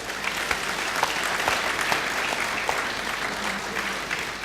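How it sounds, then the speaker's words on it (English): A large conference audience at the 50th CIBN Annual Conference applauds steadily, a dense, even wash of many hands clapping with no break. "I think he deserves a round of applause for this."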